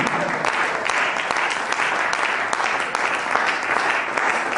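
A church congregation applauds throughout, a dense, steady wash of clapping from many hands that neither builds nor fades.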